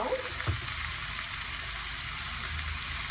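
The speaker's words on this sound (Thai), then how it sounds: "ผัดทุกอย่างให้เข้ากันดีและรอให้วุ้นเส้นสุกนะคะ" Crab meat and glass noodles stir-fried in a pan with oyster sauce, fish sauce and chili paste give off a steady, close sizzling hiss, continuous and even, with no talking.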